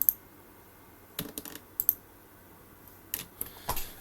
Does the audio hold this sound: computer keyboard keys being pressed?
yes